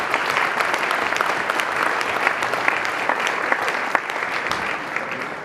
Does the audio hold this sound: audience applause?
yes